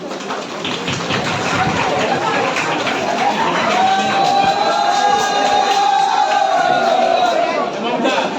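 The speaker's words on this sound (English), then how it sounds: "A big clap for Anisha Pal." An audience at a Teacher's Day celebration applauds a dance performer, producing a sustained hiss of clapping from many hands with voices mixed in.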